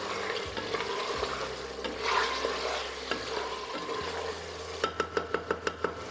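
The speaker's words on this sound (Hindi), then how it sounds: "इसको हम अच्छे से भून लेंगे।" Turnip and meat frying in a pan while a utensil stirs, a steady close sizzle with scraping strokes that end in a quick run of sharp taps against the pan.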